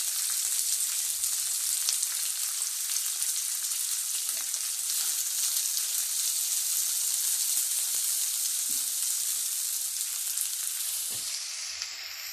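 Roughly chopped onions sizzle in a pan of hot oil with green chilies for a spicy chicken dish, a steady bright frying hiss with occasional soft crackles that eases slightly near the end.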